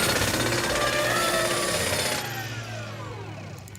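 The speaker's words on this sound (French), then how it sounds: "Et si je prenais le fameux tournevis supersonique numéro 9? Ouais, je vais réparer ça en une nanoseconde." A cartoon supersonic screwdriver makes a repair effect on a space scooter, a dense buzzing, rattling whir like a jackhammer that holds strong for about two seconds, then thins and fades into a shimmering, ringing tail.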